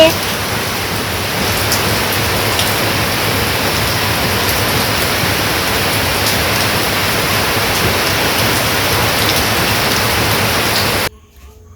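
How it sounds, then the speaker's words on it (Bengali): Rain pours steadily outside a village home, a loud, even wash of falling water that holds constant for about eleven seconds before cutting off abruptly. "এই যে আমাকে বাড়িতে বৃষ্টি নামছে"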